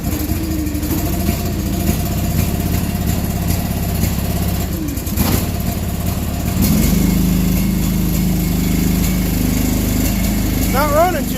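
A small engine idles low and uneven, a steady rough rumble close by that shifts slightly partway through, with a person talking over it.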